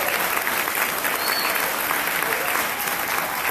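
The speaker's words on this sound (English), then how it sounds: "A nice round of applause." A crowd at a Google grant announcement event for CORAL STEM claps in an even, sustained round of applause, moderately loud and unbroken throughout.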